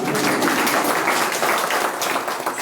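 An audience claps at a school event during an education minister's inspection visit, producing a steady burst of applause that fills the short moment at fairly high volume, with no talking over it.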